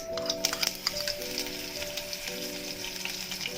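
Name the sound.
green chilies sputtering in hot oil with mustard seeds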